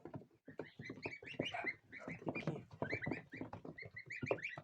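Close, busy chorus of young domestic goslings peeping and chattering, many short high calls tumbling over one another without pause.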